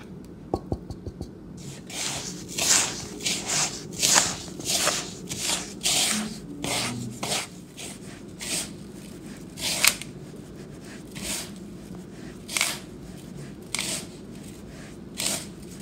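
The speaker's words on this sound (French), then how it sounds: "on va commencer à sabler notre semoule pour mélanger ensemble le sucre" Semolina, sugar and butter rubbed together between the palms, a steady gritty rhythmic rasping of grains repeated in quick strokes, close and clear with no talking.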